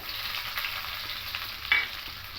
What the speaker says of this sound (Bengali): এটাকে খুব ভালো করে লাল লাল করে একটু ভেজে নেবো